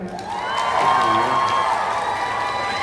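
A crowd at an evening temple fair concert in Bangkok claps and cheers in a short, dense burst, with shouts and whoops rising over the applause.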